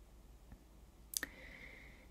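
A We Are Memory Keepers journal trimmer slices a cardstock sentiment in half, heard as a quick close pair of sharp clicks followed by a brief sliding whir in a quiet room.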